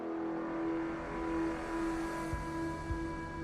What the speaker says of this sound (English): I ride a bus